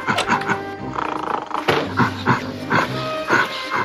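Dog barks and roaring wild-animal calls in a 2001 Microsoft Zoo Tycoon commercial overlap in a busy, loud burst of repeated animal noises.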